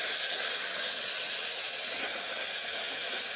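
Tomatoes, green chillies and garlic sauté in a clay pot for a Thanjavur-style fish curry, giving a steady, close, loud sizzling hiss that runs unbroken throughout with no talking.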